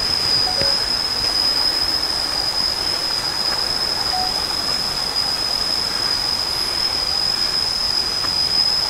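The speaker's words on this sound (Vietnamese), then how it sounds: "Đây gần kế bên có nghe tiếng nước suối chảy dốc dách." A mountain stream beside a Buddhist temple rushes downhill in a loud, unbroken wash of water noise, with a thin steady whine running above it throughout.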